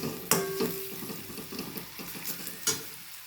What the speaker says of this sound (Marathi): मसाला तेलात चांगला परतला आहे।